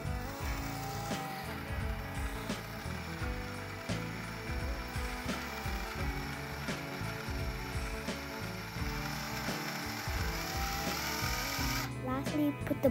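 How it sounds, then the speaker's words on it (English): An electric drill runs in steady short bursts, whirring and ratcheting as it tightens screws while installing a hook, close and fairly quiet, with no talk. "Now we can use an electric drill to tighten the screws."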